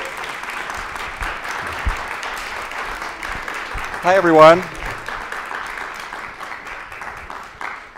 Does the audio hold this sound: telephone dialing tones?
no